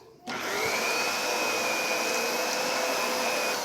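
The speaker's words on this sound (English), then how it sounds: "Okay, I got the vacuum set up. It's ready to go. And so here it is in action." A Kenmore 600 Series Pop-N-Go canister vacuum cleaner starts up and then runs steadily with a loud, even airflow roar and a constant high whine, with no talking.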